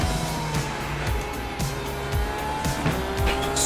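A race car at Portland International Raceway in the iRacing sim brakes hard, its tires squealing in short bursts over steady engine drone.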